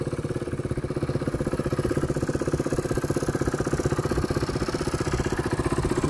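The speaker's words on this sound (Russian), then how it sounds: "И, как видите, мотоцикл на ходу." KTM RC390 single-cylinder motorcycle engine idling at close range, a fast, even thumping pulse that holds steady and loud throughout with no talking.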